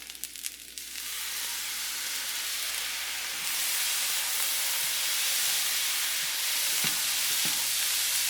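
Chicken andouille sausage fried rice sizzles loudly in a hot pan as sauce is added, a steady hissing fry with occasional scraping stirs, close and continuous without talk.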